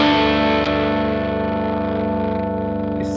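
Electric guitar through a twin boost pedal with gain set halfway, a sustained distorted chord ringing loud and steady with a slight chorus-like shimmer, alone with no talk.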